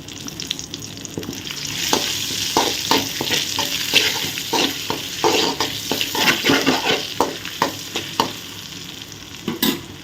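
Fennel seeds, cloves and curry leaves fry in hot oil for paneer kurma, a steady close sizzle broken by repeated stirring scrapes and clinks of a spoon against the pan.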